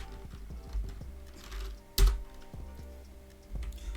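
Keys clatter on a computer keyboard in quick irregular bursts, close and fairly quiet, with one sharper louder keystroke partway through and no speech.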